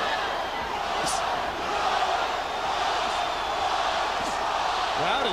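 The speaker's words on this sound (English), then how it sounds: "Crowd is chanting, Roy, Roy, Roy." A boxing arena crowd during a Glen Johnson versus Roy Jones Jr. fight keeps up a loud, steady roar of rhythmic chanting and cheering for the whole stretch, with a commentator's voice running underneath.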